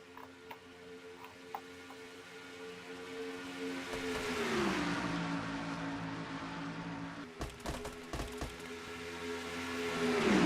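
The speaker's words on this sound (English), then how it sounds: "they are still nose to tail in a pack of cars here" Race cars in a NASCAR-style racing video game, engine whine sweeping and dropping in pitch as the pack passes, with clicking mechanical noises later and no talk.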